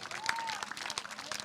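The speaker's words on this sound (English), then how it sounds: "Huge applause." A crowd applauds at a youth golf clinic, a dense patter of clapping with a brief whistle-like tone rising through it.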